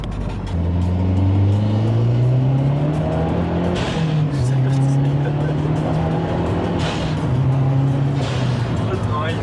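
The turbocharged engine of a Mazda 3 MPS accelerates hard, rising in pitch through the gears with brief drops at each shift, loud and heard from inside the car. People talk over the engine.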